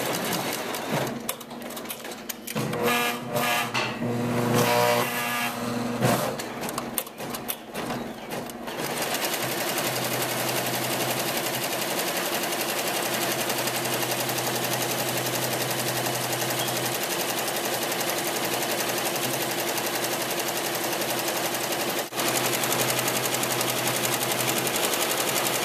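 Embroidery machine stitching a logo onto fabric in a screen-printing and embroidery shop, a rapid continuous needle chatter with a humming motor, jerky at first then running steadily and loudly throughout.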